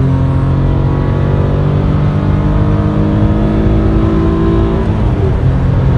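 A rented GT4 sports car accelerates on the Nürburgring, its engine a loud, steady, close-up drone heard from inside the cabin with no talk over it.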